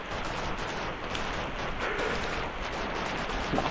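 Heavy rain pours steadily in a dense, loud hiss with no pauses, close by and with no voices.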